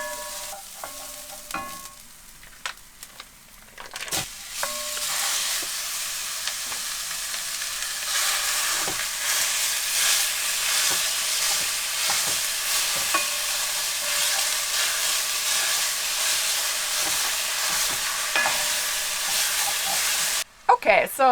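Ground beef browns in a Le Creuset skillet with a steady, loud sizzle and frying hiss, interrupted by frequent scraping and stirring clatter, close up and with no talking until a brief pause near the end.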